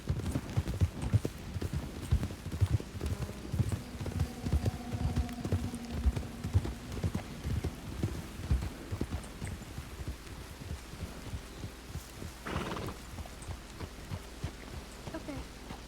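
Buckskin Mustang horse in WildRP, hooves clip-clopping in a brisk, even rhythm at close range, continuing steadily with a brief noisy burst late on.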